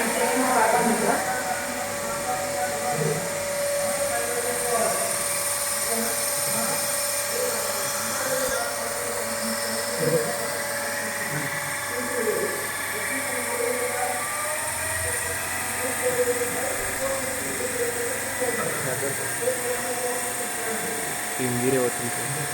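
A DC shunt motor runs steadily at close range during Hopkinson's test, a continuous mechanical whine with high tonal hum holding through the whole stretch and only small fluctuations.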